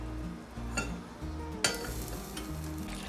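Soft, steady sizzling of chopped garlic frying in hot oil, with a couple of sharp clinks of a utensil against the pan.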